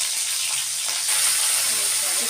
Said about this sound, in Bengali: এখন কড়াইতে আবারও তেল দিয়ে এর মধ্যে শুকনো লঙ্কার পাঁচফোড়ন দিলাম